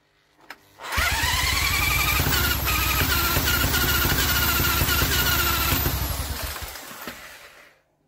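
A Stuart Turner engine is spun over and catches, running as a loud, close, rapid chugging for several seconds before winding down and stopping.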